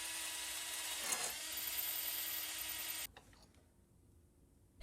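A small drill bores fastener clearance holes through the clamp pieces of a model boiler. The high, steady whine runs for about three seconds and then cuts off, leaving quiet behind.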